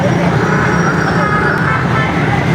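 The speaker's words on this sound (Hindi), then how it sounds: "टोटल ट्रैफिक जाम है। जीटी रोड बंद है" Dense traffic jam on GT Road in Gujranwala, a loud steady roadway rumble of idling and crawling cars, buses and trucks with scattered horn toots, close and continuous.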